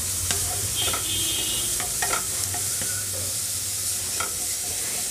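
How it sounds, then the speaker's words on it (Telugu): Grated carrots fry in ghee, giving a steady sizzle broken by repeated scraping and clinking as a spoon stirs the pan, heard up close with no talking. "ఇక్కడ క్యారెట్ వచ్చేసి మనం కనీసం 3-4 మినిట్స్ వరకైనా వేయించాలండి."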